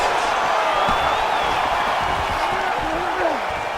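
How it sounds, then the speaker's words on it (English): Arena crowd noise in the UFC 5 fighting game during a Bruce Lee versus Manel Kape super fight, a steady loud roar with cheering that swells throughout, with no speech over it. "big pop from the crowd as they get back"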